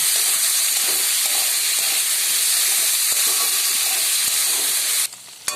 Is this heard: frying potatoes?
yes